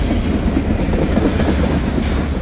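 A train rumbles past close by on the rails as it picks up speed, a loud steady roll with faint wheel clatter and no talk.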